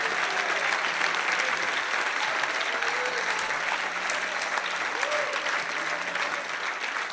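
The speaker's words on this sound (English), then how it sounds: "Come on, somebody, clap their hands." Church congregation clapping their hands in a steady, full wash of applause that holds evenly the whole time, with faint voices calling out beneath it.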